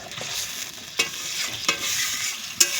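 Spicy eggplant curry (begun jhal) stirred in an oily frying pan, with a steady soft sizzle and three sharp scraping clinks of the spatula against the pan, close and alone.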